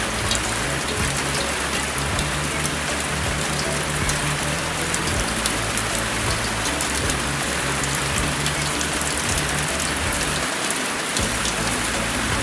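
Steady rain falls outdoors in rural fields in Thailand, a dense, continuous hiss of drops hitting surfaces that stays loud and even throughout, with no voices heard.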